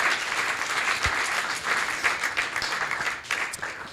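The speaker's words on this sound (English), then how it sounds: "so round of applause" A conference audience at a community round table breaks into applause, with a close, dense patter of many hands clapping that holds steadily for a few seconds with slight swells.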